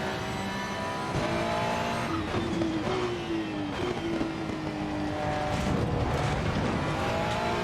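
A GT race car engine in the racing game Assetto Corsa Competizione revs and drops through pitches in quick downshifts, with tire noise and a steady roar throughout, no talking.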